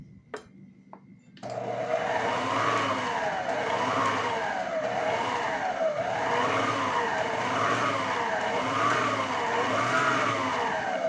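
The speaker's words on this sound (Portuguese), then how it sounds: "só vou ligando e desligando a batedeira, pessoal, para ir misturando mesmo a farinha" Electric stand mixer beating flour into a cake batter: a short quiet start with a couple of clicks, then the motor switches on loud and steady, its whirring tone wavering rhythmically as the beaters churn, running continuously to the end.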